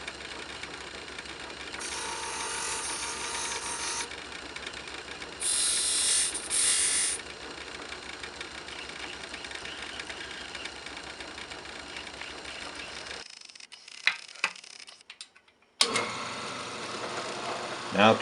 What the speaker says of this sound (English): A little cleanup on my bench grinder